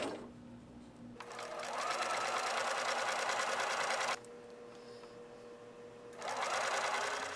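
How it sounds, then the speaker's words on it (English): Sewing machine stitching a McCalls M8097 skirt, running in steady whirring bursts: a long fast run, a short pause at lower speed, then another quick burst, close and continuous with no talking. "We're gonna back stitch and then forward stitch."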